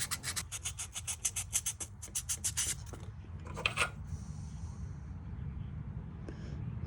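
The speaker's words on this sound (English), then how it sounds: "Use 400 grit sandpaper here." Fine 400-grit sandpaper rubbed by hand on a Case pocket knife blade: quick rhythmic scratchy strokes close up for a few seconds, then a brief louder rasp, with low background rumble.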